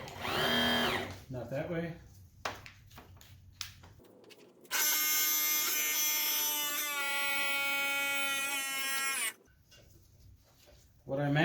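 An outboard motor's electric power trim/tilt motor runs in a steady, loud whine for about five seconds between bursts of nearby talk and clunks before and after.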